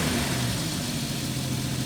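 A Jeep Cherokee XJ engine runs nearby with a steady low idle rumble that rises slightly as it gets a little gas, with no voices.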